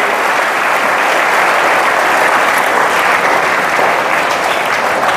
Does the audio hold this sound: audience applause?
yes